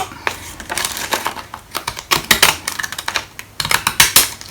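Repeated sharp snipping and crunching of paper being trimmed with decorative-edge scissors, a quick irregular series of close, crisp cuts with no talking.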